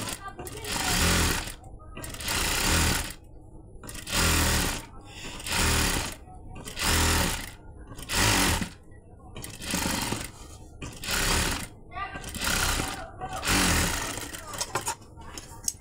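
A sewing machine stitches a garment sleeve in repeated short runs, each burst of rapid needle chatter followed by a brief pause, close and steady, with a voice speaking between bursts.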